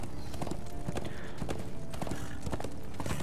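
Horse hooves clip-clopping in Darksiders 2 Deathinitive Edition: a steady, rhythmic series of close hoof clops at a moderate gallop over a constant game-ambience bed, with no talk.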